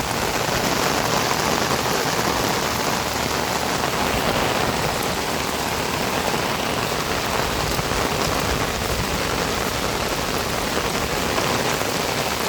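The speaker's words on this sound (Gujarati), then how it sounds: "આપણા રંગપુર ગામની અંદર હવે વરસાદ ચાલુ થઈ ગયો છે, ભારે વરસાદ આવે છે" Heavy monsoon rain pours steadily over a village in Rangpur, a dense, even roar of drops drumming on surfaces with no break, close and loud throughout, no voices.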